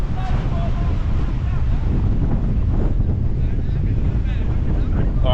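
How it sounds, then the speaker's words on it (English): Strong coastal wind near Esperance buffets the microphone in a loud, continuous roaring rumble that swamps everything else, with faint traces of water in the background. "This wind is just soul sucking."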